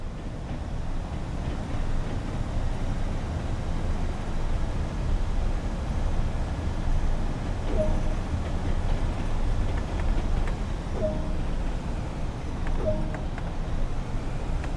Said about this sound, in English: Observe that the train now has the ability to accelerate to a higher speed.